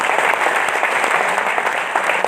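An audience at a motivational seminar claps together, a dense unbroken wash of hands heard close and loud for the whole short stretch, with no voice over it.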